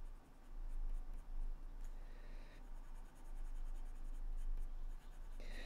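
Coloured pencil scratches steadily across smooth paper with firm pressure, a continuous close, dry scraping texture with slight variations in stroke.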